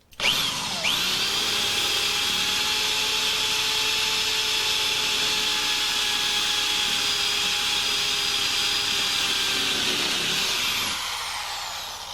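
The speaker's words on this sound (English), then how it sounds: "we're going to go ahead and progress now to the 1/4 inch bit" A power drill fitted with a 1/4 inch bit bores steadily into a lock cylinder, one continuous high whine for about eleven seconds before spinning down, loud and close.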